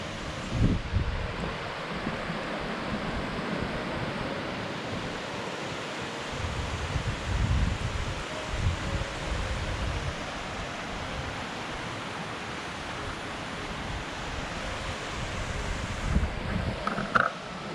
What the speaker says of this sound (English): And check out the nice little waterfall picture going on.